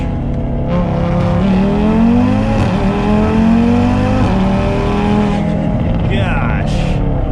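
An 800 hp big-turbo Audi RS3 with a built motor accelerating hard in second gear, its engine note climbing steadily in pitch, loud and close from inside the car, with a person speaking over it.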